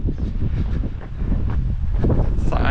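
Steady wind rumbles and buffets the microphone outdoors during a long walk, a continuous low roar with gusty swells and no pause.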